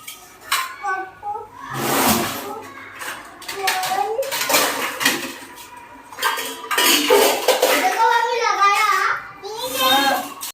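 Dishes, pots and utensils being washed in a home kitchen, with clinks and clatters of metal and running water mixed under frequent talk from a woman and a child.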